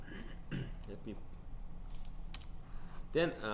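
Typing on a computer keyboard while writing PHP code, with scattered bursts of close key clicks spread irregularly through the clip and a voice talking in between.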